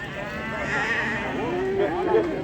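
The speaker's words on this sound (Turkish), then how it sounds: "Bu sırf ərəb keçisidir." Arab goats bleat at a livestock market, several wavering cries close by over a dense crowd murmur and background chatter.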